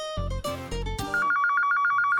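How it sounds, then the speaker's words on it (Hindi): A telephone rings in a Hindi TV drama scene: a tonal ringtone with rapid pulsing chirps, loud and close, following a stretch of music or tones at the start. "ये फोन भी ना हमेशा गलत टाइम पे बजता है"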